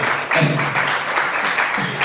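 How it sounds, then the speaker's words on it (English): A crowd claps steadily and enthusiastically, a dense, continuous wash of applause filling the room. "Put your hands together so we can bring up Brother Bobby."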